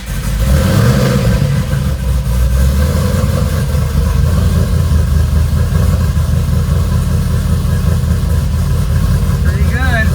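A Nissan G35 with a swapped LSA V8 runs on a dyno with nitrous and E85 fuel, roaring loud and steady through rising revs, heard up close with a voice talking over it.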